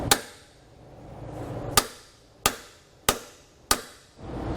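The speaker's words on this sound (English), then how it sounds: "we can just hit the head of the bolt itself." Five sharp metallic hammer blows strike a bolt head to seat it during a Dexter E-Z Flex suspension install on a 2006 Jayco Select camper, spaced about a second apart, loud and close with short ringing decays and no talking.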